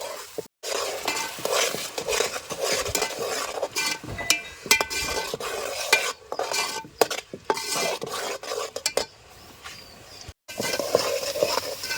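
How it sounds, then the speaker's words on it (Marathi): Oil sizzles loudly in a pan on a wood-fired stove as a spice tempering is stirred and scraped with a utensil, with metallic clinks and brief pauses in the stirring. "हे बघा फोडणी तयार होते आपली"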